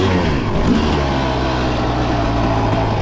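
Motorcycle engine during wheelie practice, held at a steady mid-range drone with clutch work, close and continuous across the few seconds.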